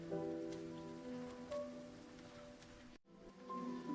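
Quiet steady rainfall over a village by Philippine rice fields, a soft continuous patter with faint tonal hum in the background, briefly dropping out before resuming.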